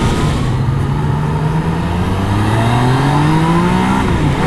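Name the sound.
Yamaha MT-09 motorcycle engine revving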